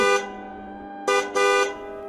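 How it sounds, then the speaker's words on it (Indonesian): A car horn sounds three times: one long blast, then after a pause two blasts close together, loud and clear over a quiet background. "Ayah menyalakan klakson 3 kali."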